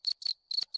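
A cricket chirp from a Discord soundboard plays as four quick, bright, evenly spaced trills, clear and isolated against silence.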